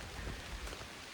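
Rain falling steadily on a hiking trail on the Appalachian Trail, a continuous soft hiss of drops with no distinct rhythm, faint and even throughout the short stretch.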